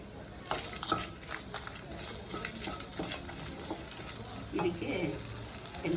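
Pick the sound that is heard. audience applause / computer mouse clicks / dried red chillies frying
dried red chillies frying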